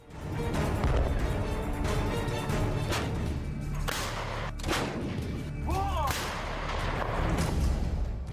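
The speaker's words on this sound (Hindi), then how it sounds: "अब इस तोप का असर देखिए।" M777 howitzer artillery firing in the Ukraine war, heavy booming blasts repeating irregularly with sharp whip-like cracks and rumbling tails, loud and close.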